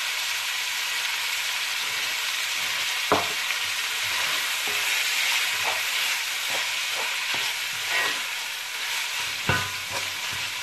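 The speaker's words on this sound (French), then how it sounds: "Pendant que la viande est en train de rôtir, nous allons écraser la tomate." Ground meat for lasagne fries in a pan with salt and persillade, a constant loud sizzling hiss broken by scattered spatula knocks and scrapes, with no one talking.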